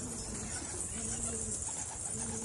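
A karagül pigeon coos softly in a pigeon loft in repeated low, throaty phrases over a steady background hiss, with birds nearby and no clear talking.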